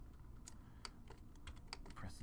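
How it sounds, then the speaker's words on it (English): Keys on a computer keyboard tapped in a scattered run of soft, quick clicks while working in 3D arm-rig setup software, faint and steady under a low background hum. "Press the Z on my keyboard"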